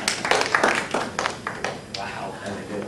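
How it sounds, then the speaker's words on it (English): A physics class gives its speaker a round of applause: scattered, fairly light hand claps, close and uneven, mixed with people talking in the room. "And now let's give our speaker a round of applause"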